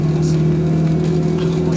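A Lincoln with suicide doors revs its engine close by, a loud sustained low drone with steady harmonic hum; a voice briefly speaks over it.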